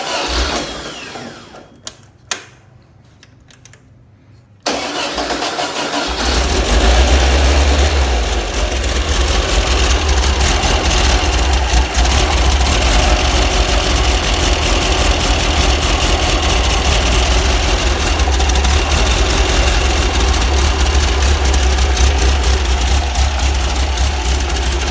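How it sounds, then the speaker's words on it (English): A rebuilt Case engine with a C35 cam, new lifters and reworked heads cranks briefly, then settles into a loud, steady idle that runs on alone. "So I'm going to go ahead and fire it up."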